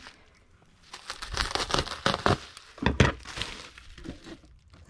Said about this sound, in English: And we need a piece of bubble wrap.